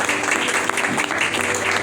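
A church congregation claps during a pastor's Urdu sermon, a brief burst of crowd applause with a voice faintly underneath.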